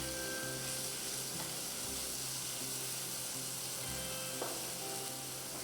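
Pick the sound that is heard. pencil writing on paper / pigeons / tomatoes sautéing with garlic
tomatoes sautéing with garlic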